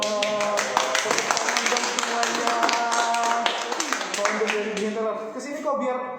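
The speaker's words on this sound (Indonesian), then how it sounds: "Tepuk tangan dong semuanya" An audience in an event setting at a tailor's shop gives a short burst of scattered clapping, with a person talking over it the whole time.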